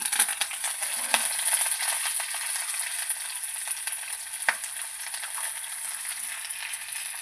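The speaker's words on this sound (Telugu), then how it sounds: "లేక కానీ తాలింపు ఇది ఎండుమిరపకాయ, కరివేపాకు," Dried red chillies and curry leaves crackling in hot oil for a tempering, a bright continuous close sizzle with small pops and one or two sharper spits, no voices.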